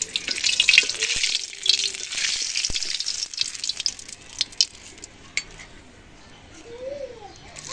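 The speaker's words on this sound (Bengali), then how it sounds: "তেল গরম হয়ে এসেছে, দিয়ে দিচ্ছি 2টো শুকনো লঙ্কা," Two dried red chillies hit hot oil in a home kitchen pan, a bright crackling sizzle with scattered pops and stirring clinks, fading to a quieter hiss.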